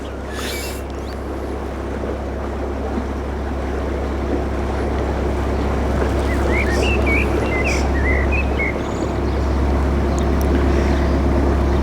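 Narrowboat engine chugging with a steady low throb as the boat manoeuvres off a mooring, close and constant, with faint birdsong and outdoor air noise around it.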